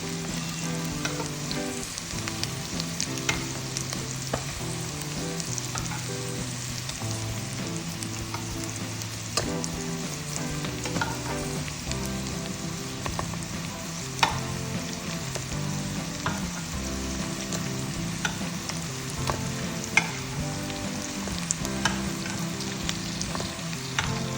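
Eggs frying in a pan with sautéed onions, garlic, ginger and cardamom seeds, giving a steady, close, dense sizzle with occasional pops and clicks, running without talk throughout.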